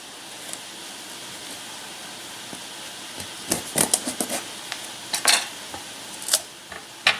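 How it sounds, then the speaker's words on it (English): A knife cuts the top out of a Winter Luxury pie pumpkin: scattered sharp clicks and scraping crunches, close and sparse, over a steady faint background hiss. "So we're just getting the top cut out here of the pumpkin."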